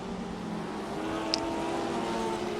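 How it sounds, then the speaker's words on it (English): A Lotus 25 racing car in the Assetto Corsa video game, its engine droning at low revs through a tight corner, a steady faint hum with no talk. "the engine is revving very low in tight corners"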